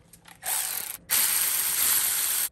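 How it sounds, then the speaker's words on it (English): Power ratchet spinning out 10 mm bolts on a Toyota 2UZ-FE engine, two loud close bursts of whirring, a short one and then a longer sustained run, with a brief pause between. "I already broke them free with my ratchet. I'm just going to spin these out."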